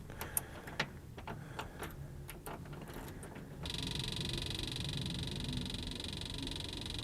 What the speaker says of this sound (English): You can hear the fuel pump cycling there.